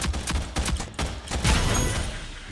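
Enemy shotgun fire in the shooter game Rogue Company: a quick run of punchy blasts in the first half, then a dense, noisy rumble that continues to the end.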